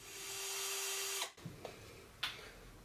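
A power drill bores into hardened knife steel for a Morakniv and Opinel hybrid knife build, whining steadily at close range for about a second before cutting off, followed by a few brief scraping knocks.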